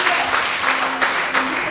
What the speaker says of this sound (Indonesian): Kita berikan tepuk tangan yang meriah buat Tuhan kita Yesus Kristus.